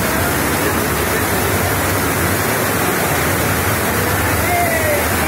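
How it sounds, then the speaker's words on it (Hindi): Loud, constant roar of rushing floodwater after heavy rain in Junagadh, Gujarat, flowing fast down a slope, a dense unbroken wash of noise that fills the whole clip. "बहुत रफ्तार से पानी आ रहा है"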